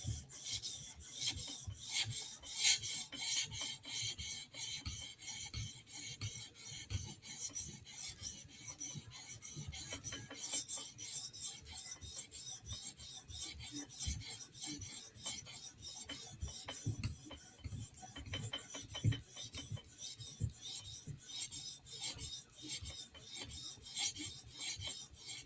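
A Chris Reeve Inkosi knife blade is sharpened on a 400 grit stone in a TSProf Kadet guided sharpener, giving a steady, close rasping scrape in quick repeated strokes throughout, with no talking.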